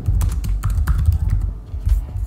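Quick bursts of keys tapped on a computer keyboard while a name is entered into a portfolio website form, close and fairly loud, uneven clusters of clicks with brief pauses.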